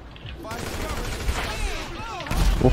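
Gunfire in GTA V, a rapid fusillade of shots rattling on over a dense battle din, growing louder and heavier near the end, with a voice briefly audible amid the shooting.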